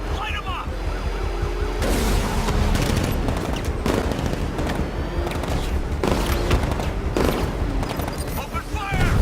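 Gunfire in Batman: Arkham Knight during a vehicle chase on Miagani Island: repeated bursts of automatic fire and booming hits over engine roar and sirens, with voices talking between shots.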